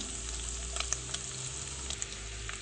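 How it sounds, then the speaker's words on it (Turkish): Meat frying in a pan with a couple of spoonfuls of olive oil for a potato and meat stew, giving a steady close sizzle with a few sharp crackles and pops. "2 yemek kaşığı kadar da zeytinyağımızı içine dökelim"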